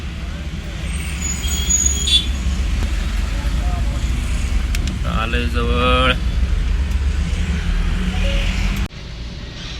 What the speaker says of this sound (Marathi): लागलं ट्रॉफिक आम्हाला इथं